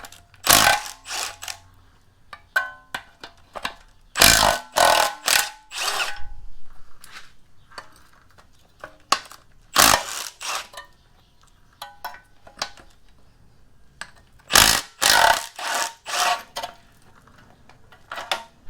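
Bolts on a 6.0 LS engine bracket being loosened with a 15 mm ratchet and power tool, giving repeated short bursts of whirring and clicking separated by pauses, close up with no talk.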